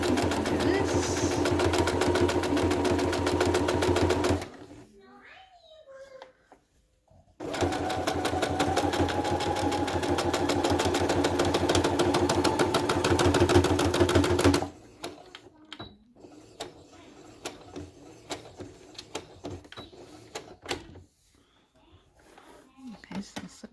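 Sewing machine stitching the lining of a crochet tutu top, running in two long steady bursts of rapid mechanical clatter with a quiet pause between, then quieter handling sounds afterward.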